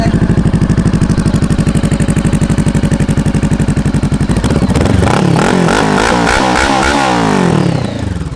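A 2015 Honda CBR500R motorcycle engine cranks with rapid rhythmic chugging, then fires up and revs in loud rising and falling bursts close by.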